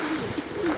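Pigeons in a loft make a soft, low coo, brief and somewhat muffled amid a steady ambient hiss.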